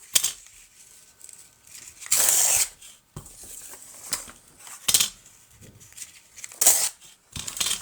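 Scissors cutting paper for junk journal embellishments: several short, crisp snipping and rustling bursts spaced a second or two apart, close and fairly quiet, with handling noises between.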